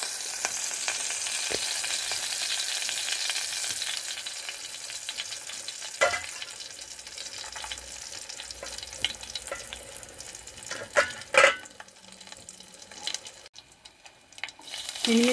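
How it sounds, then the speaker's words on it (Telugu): Turmeric, dried red chillies and garlic fry in hot oil for spinach dal, giving a loud, continuous close-up sizzle that eases slightly over time, with occasional ladle knocks and scrapes against the pan and no talking. "కొంచెం పసుపు, ఎండుమిర్చి, వెల్లుల్లిపాయలు వేస్తున్నా చూడండి."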